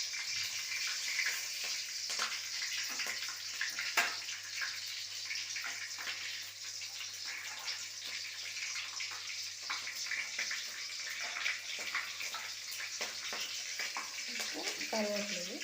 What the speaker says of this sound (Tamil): பட்டை, இலை, கிராம்பு, ஏலக்காய் இதை போட்டு பொரிச்சுப்போம்.